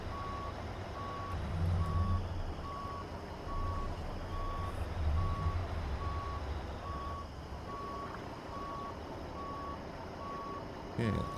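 A reversing truck in American Truck Simulator gives off a steady, evenly spaced electronic beep that repeats throughout, riding over a low diesel engine rumble.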